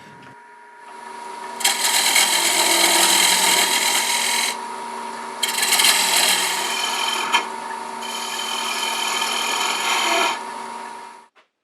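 Three long, steady rasping passes of a cutting tool shaping a spinning PVC collet on a wood lathe, separated by short pauses with the motor humming.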